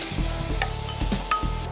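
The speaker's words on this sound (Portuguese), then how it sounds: "dar uma fritadinha na cebola e no tomate" Chopped onion and tomato fry in a pan for a fish risotto, sizzling steadily while a utensil scrapes and taps the pan a few times, with no talking.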